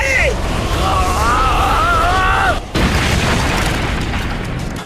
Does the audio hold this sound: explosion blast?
yes